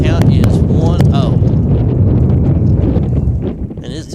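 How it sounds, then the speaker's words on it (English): Strong wind buffets the microphone at an outdoor high school baseball game, a loud, constant low roar that nearly drowns out a commentator talking briefly over it. "And it's extremely windy here today."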